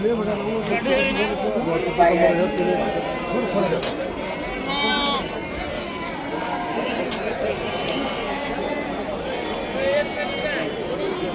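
Sheep and lambs bleating repeatedly at a Thursday morning sheep market in Haveri, Karnataka, with a dense crowd of overlapping calls over steady market chatter as traders talk and bargain nearby.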